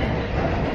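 A metro train at the Disneyland Paris station makes a loud, close, continuous rumble and rattle of rolling wheels over the track, with no voices.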